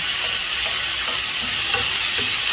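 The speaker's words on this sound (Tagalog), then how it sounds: "Ilalagay na natin yung ating leftover na sinigang na pork." Leftover pork sinigang fries in a pan with a loud, constant high sizzle, broken by occasional soft stirring scrapes and no voices.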